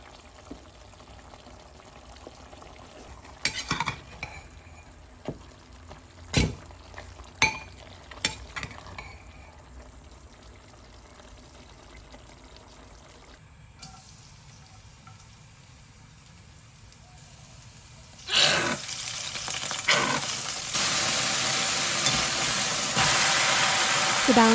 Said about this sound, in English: I'm also making a quick stir-fried green vegetable